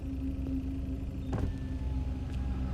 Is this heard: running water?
no